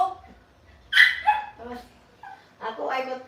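A dog barks and whimpers in short yips and whines, close by and fairly loud, in a few bursts separated by brief pauses.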